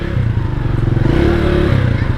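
Motorcycle engine revving at a traffic light during city riding in Bursa, a loud close throb with rapid rhythmic pulsing that holds steady, with wind and road noise around it.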